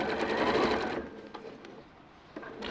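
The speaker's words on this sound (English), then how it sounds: "I'm just stitching the side seam and the underarm here." Sewing machine stitching the side seam and underarm of a garment, a close, steady whirring run that stops after about a second, followed by a few soft clicks and handling sounds.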